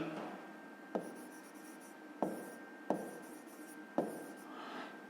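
A pen scratches across paper while math problems are written out, a soft continuous scribble broken by about four sharp taps as the pen lands.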